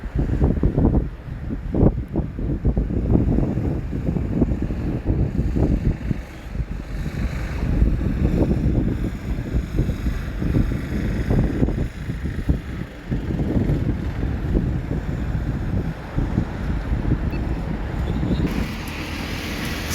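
Strong wind buffets the microphone on a hillside above landslide-prone ground at Cheruvathur along NH66 in Kerala, a steady low roar with gusty surges throughout and no talking.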